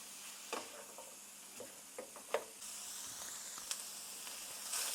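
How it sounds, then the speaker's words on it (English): Ground meat and onion fry in a pan with a soft, steady sizzle, broken by occasional stirring scrapes and clicks from a utensil. "until this onion is nice and cooked through and tender, and the meat is cooked through"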